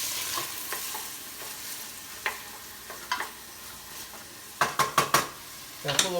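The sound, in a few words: anchovies sizzling and melting in olive oil in pan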